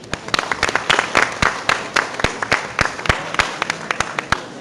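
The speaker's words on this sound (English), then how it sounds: "Let's give everybody who won tonight a big round of applause." A crowd at a school district board meeting applauds with steady, dense clapping, sharp individual claps standing out throughout, loud and sustained.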